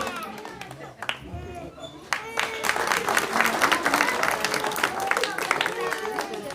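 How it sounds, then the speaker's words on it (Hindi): Loud welcoming applause from an audience at a Hindi speech event, starting after a brief spoken introduction and swelling into dense, sustained clapping, with voices audible underneath. "एक बार जोरदार तालियों से स्वागत"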